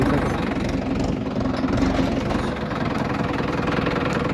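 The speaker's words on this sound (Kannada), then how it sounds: "ಇದು ನಮ್ಮ ಮಾವನ ಟ್ಯಾಕ್ಟ್ರು ಹೋಗ್ತಾ ಇದ್ದೀನಿ" A tractor engine runs loud and close while the tractor is driven on a farm during ploughing, holding a steady, rough, low-pitched drone with a constant vibrating rumble and no clear speech.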